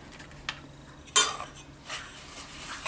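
A spoon mixes banana bread batter in a bowl, giving a few soft scraping stirs and one sharp clink of metal against the bowl, close and fairly quiet, with no talking.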